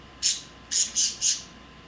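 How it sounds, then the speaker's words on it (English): Birds call four times in short, high-pitched bursts, one first and then three in quick succession, moderately loud over a quiet background with no talking. "I think the birds are hungry or something."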